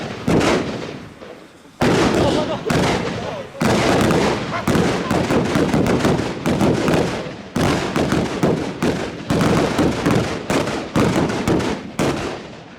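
Middle Dynamit firecrackers and a firework cake of over 100 firecrackers explode outdoors in a loud, dense, crackling barrage of rapid bangs, broken by a few short pauses, close and overwhelming.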